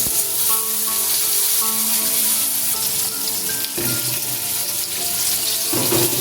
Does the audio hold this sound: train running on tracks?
no